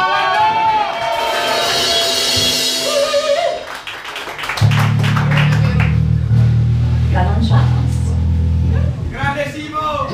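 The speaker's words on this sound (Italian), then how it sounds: "un applauso alla Francia." Concert audience applauding and cheering at a cover band's show, a crowd of claps and whoops with a loud low sustained tone from the stage underneath partway through.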